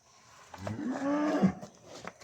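A Holstein Friesian cow, a pregnant dairy cow on a farm, gives a single drawn-out moo that swells and fades over about a second, close and fairly loud with no voices over it.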